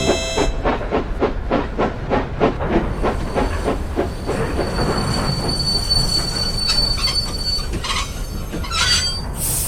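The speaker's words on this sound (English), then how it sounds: "Your brake blocks aren't holding your wheels properly, and when they rub against each other, they make a groaning sound." Steam engine's brake blocks groaning and squealing against its wheels, with rhythmic clanking of rolling wagons, hissing steam and a sustained high-pitched squeal building over the later seconds.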